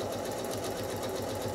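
A sewing machine stitches straight lines through a quilted house block, running at a steady, rapid hum without pause, close up and alone with no voices.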